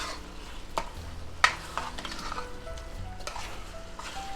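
Ground taco meat fries in a pan with a steady sizzle as a utensil stirs and scrapes it, giving a few sharper clinks along the way, close up with no voices.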